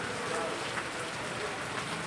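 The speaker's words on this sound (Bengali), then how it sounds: "বৃষ্টির জন্য যাইতে পারতেছি না।" Heavy rain pours down steadily in a continuous, dense broadband wash with no distinct drops standing out, fairly close and even in level throughout.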